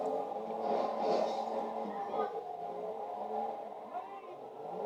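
Engine hum of the Comet car driven in a racing video game, a steady revving drone that swells and eases as the car slides, running continuously through the short stretch.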